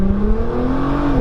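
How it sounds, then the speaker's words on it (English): A boosted Scion FR-S runs at full throttle, its engine making a loud, close drone that climbs steadily in pitch for a short burst. "One more full throttle burst right here."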